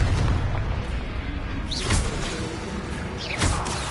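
Confringo spell blasts in Hogwarts Legacy come as two booming whooshes about a second and a half apart, loud and close over a continuous rumbling battle din.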